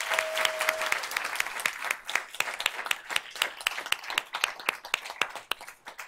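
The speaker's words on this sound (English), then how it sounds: "So let's give them a big round of applause." Applause at a board of trustees meeting: a round of clapping from a modest crowd, dense at first and thinning to scattered individual claps toward the end.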